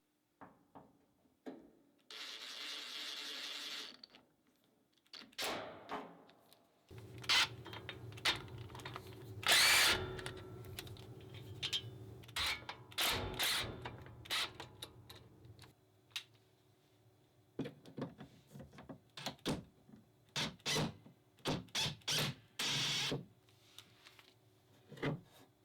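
Dewalt DWARA120 right angle attachment on a drill driving fasteners, with several uneven bursts of whirring spin, short stops and starts, and clicks between them, fairly quiet and up close.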